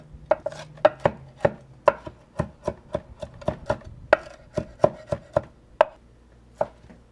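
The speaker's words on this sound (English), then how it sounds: "And then I need to chop up shrimps." Knife chopping cooked shrimp on a cutting board: a steady series of sharp, crisp chops, about two or three per second, close and clear with no talk over them.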